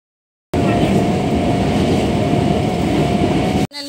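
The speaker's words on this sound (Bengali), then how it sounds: "আমরা যে ট্রেনটা এসেছিলাম সেটা হচ্ছে বনগাঁ লোকাল" Bongaon local commuter train rolling along, a loud continuous rumble and rattle of carriages for about three seconds after a silent start, cutting off abruptly.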